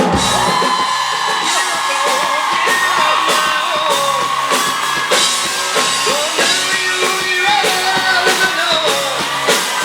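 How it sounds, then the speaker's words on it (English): Loud convention crowd at DallasCon cheering, whooping and applauding for Jason and Jared, with dense continuous shouting and a rhythmic pulse running through the whole stretch. "Big round of applause for Mr. Jason Apples and Jared Padalecki."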